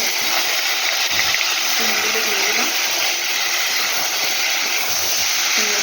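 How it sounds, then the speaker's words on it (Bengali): Nigella seeds and dried red chillies go into hot oil in a pan, producing a loud, steady, close hiss of frying that holds evenly throughout. "তেলটা ভালোভাবে গরম হয়ে গেছে এখন আমি দিয়ে দিচ্ছি"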